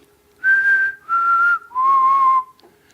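A person whistles an imitation of the albatross courtship song: three sustained, clear notes, each slightly lower than the last, loud and close with brief pauses between them.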